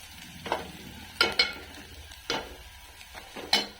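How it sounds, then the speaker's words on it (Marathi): Onion frying in a pan for a village-style goat mutton yellow rassa, with a soft low sizzle broken by several sharp scrapes and clinks as a spoon stirs against the pan. "भाजून घ्यायचा चांगला आपला कांदा कांदा चांगला भाजला आहे"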